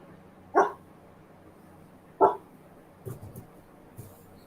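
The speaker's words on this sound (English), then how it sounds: "The dog won't stop eating my table." A dog barks twice, sharp and close, a second apart, then gives a couple of softer yips in a quiet indoor room.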